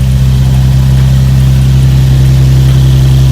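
A Nissan 350Z with an oil leak idles steadily at close range, a loud, even low rumble with a constant hum and no revving or speech.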